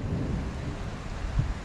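Steady rain and low thunder rumble together during a brief afternoon storm in Armenia, a dense, even wash of sound with one faint thump near the end.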